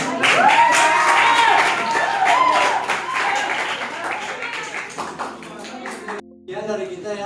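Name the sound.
audience clapping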